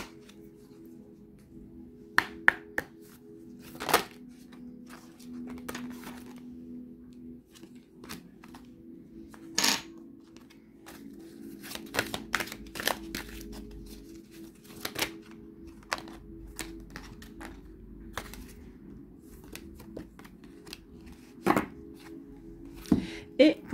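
Tarot cards are handled in a sparse sequence of crisp clicks, snaps and soft flicks as they are shuffled and drawn, with a steady low hum underneath and quiet stretches between the card sounds.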